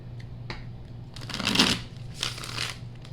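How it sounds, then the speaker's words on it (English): Career and money tarot cards being shuffled by hand, several quick riffling bursts of papery flutter with short pauses between them, close and clear with no talking. "Okay, let's take our career and money cards. They're telling me to shuffle these."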